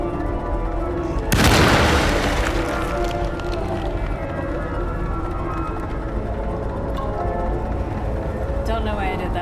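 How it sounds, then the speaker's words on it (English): A shotgun fires in the survival horror game Alone in the Dark, one heavy boom that bursts out and fades over a couple of seconds, set against a constant game soundscape with a voice talking faintly. "I think I can shotgun him."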